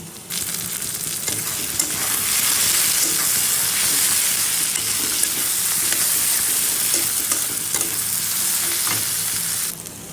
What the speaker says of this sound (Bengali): এগুলো এখন সুন্দর করে ভাজা ভাজা করে নেবো